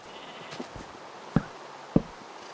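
Sheep in the Minecraft video game bleat in two short, distinct calls against a quiet backdrop of faint game ambience.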